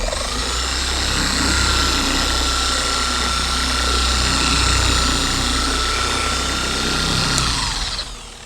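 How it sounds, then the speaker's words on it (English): A car polishing machine running at speed setting 1 while spreading ceramic coating chemical on paintwork, a steady loud motor whine and hum that holds for several seconds before winding down, no talking. "it is time to turn on our machine to speed setting 1,"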